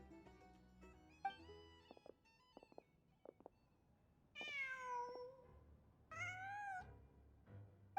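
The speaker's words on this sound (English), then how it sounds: "Just a cat." A cat meows twice in the video game Genshin Impact, two drawn-out tonal mews following a series of light plucked chimes and clicks, quiet and clean with no voices.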